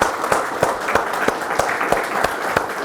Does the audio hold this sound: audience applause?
yes